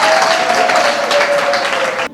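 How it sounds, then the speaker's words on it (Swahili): A hall audience claps together in steady, dense applause at a church fundraising event after pledges are announced, loud and continuous for about two seconds before cutting off, with no voices on top. "Mjipigie makofi ya kutosha kabisa"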